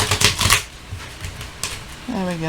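Quick riffling shuffles of a new Halloween tarot deck in short bursts near the start, then a brief voice-like tone near the end; fairly close and moderate in loudness.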